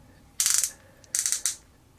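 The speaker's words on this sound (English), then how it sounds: "You do have a cut here, which is kind of like a ratchet joint." Ratchet joint of an Enterbay Michael Jordan 1/9 scale action figure clicking as it is moved, two short bursts of rapid close ratcheting clicks with a faint single click between them.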